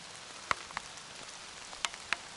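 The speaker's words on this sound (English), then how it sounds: "It's raining, guys." Rain falling on a forest trail at a nature preserve near Brown County State Park, heard as sparse, scattered droplets tapping leaves and ground, faint and irregular over a soft wet hiss.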